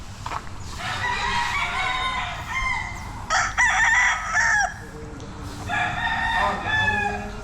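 Roosters crow again and again over steady hen clucking at a chicken farm on Mt Banahaw, with several birds overlapping at close to mid range and no talk.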